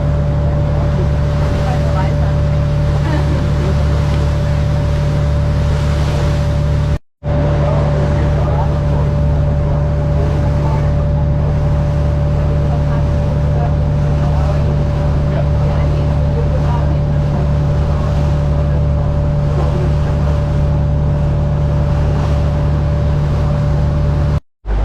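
Steady, loud drone of a tourist boat engine on open water, constant throughout with a faint hum and brief cut-offs, no talking.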